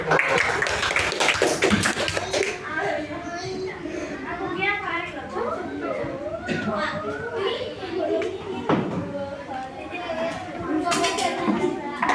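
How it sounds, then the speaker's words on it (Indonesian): Children in a classroom clap their hands in short bursts of taps mixed with chatter and a teacher's voice, clapping sharper at the start and near the end. "Tepuk tangan dulu."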